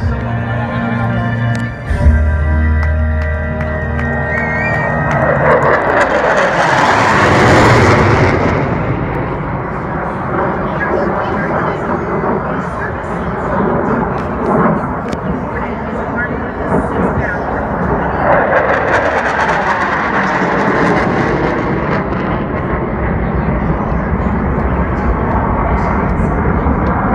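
A solo display jet roars past at the Thunder Over Louisville air show, swelling loud then fading, with a second rumbling pass later as a loudspeaker commentator talks throughout.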